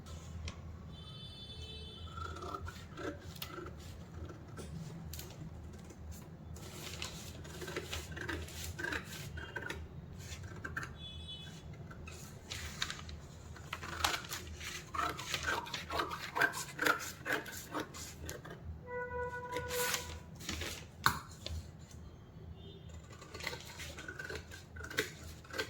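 Scissors snip through a paper pattern for a four tusk blouse, with repeated short cutting strokes and soft rustling of paper, quiet and close, with no voices.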